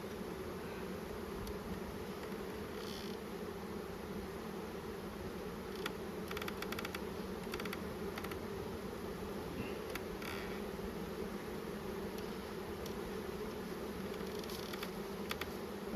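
Honeybees buzz steadily around an open hive on a hot, sunny day, a dense continuous hum of many insects close by, with no one speaking.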